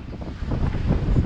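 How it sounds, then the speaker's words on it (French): Wind gusts buffet a sailboat at sea, with roughly 20-knot wind hitting the microphone as a rough, surging low roar that builds toward the end, with no voices. "Ah, on va encore être touché par des rafales."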